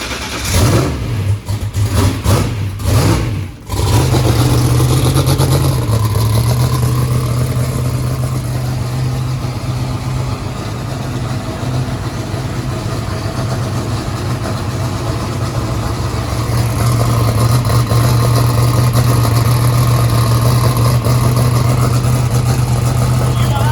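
Small block Ford V8 cranks over and catches on first start-up, then settles into a loud, steady rumbling idle with slight throttle blips, close by and dominating throughout.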